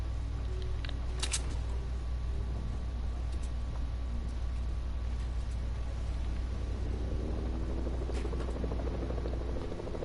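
A helicopter flies overhead in a game, heard as a steady low rotor drone under constant background noise, with a few faint sharp clicks or pops scattered throughout.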